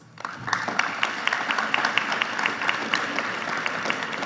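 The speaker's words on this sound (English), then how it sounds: "Students, for the last time, give your parents a round of applause" An audience at a high school senior awards ceremony gives parents a round of applause, dense and steady clapping that starts abruptly and continues evenly throughout, fairly loud with scattered sharper claps standing out.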